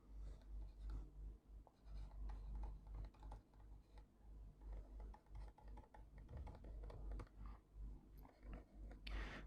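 A pen scratches and taps as a title is written by hand. The strokes are faint and close, coming in short uneven bursts over a low background hum, with no voices.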